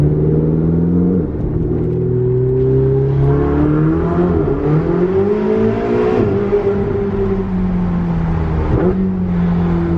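Ferrari 488 with a dual-clutch gearbox accelerating hard, a loud close engine roar that climbs in pitch, breaks briefly at each quick gear shift, then climbs again.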